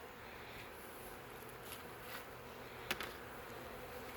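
Honeybees crowd around a hive, robbers coming in to raid it, making a steady faint buzz of many insects with a couple of brief louder ticks, no talk.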